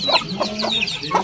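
Native chickens of a larger breed cluck repeatedly in close, busy bursts, several birds overlapping in a farmyard with no talk.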